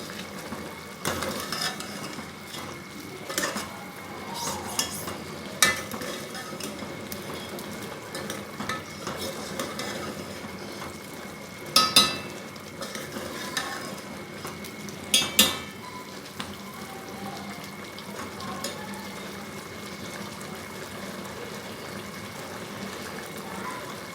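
Chicken karahi masala frying over high heat in a pan, with a continuous oily sizzle broken by repeated scraping clinks of a spoon stirring against the metal, close and moderately loud, no talking.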